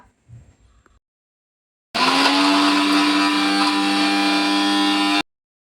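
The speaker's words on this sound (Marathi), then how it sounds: "आपण आता मिक्सरला लावून फिरून घेऊया" After a brief clatter, a mixer grinder blending chutney roars loudly and steadily for about three seconds, then cuts off abruptly.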